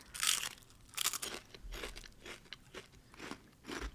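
Crunchy bites into Funyuns onion-flavored chips at close range, several sharp crunches followed by chewing, with no talking.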